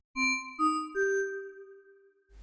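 Three bright, bell-like tones from an additive synthesizer step upward one after another, each rich in evenly spaced overtones, the last ringing out and fading slowly.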